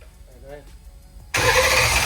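ProMod Mustang with a turbocharged small-block Ford engine starting for the first time: a quiet pause with a brief voice, then the engine abruptly fires into a loud, sustained roar.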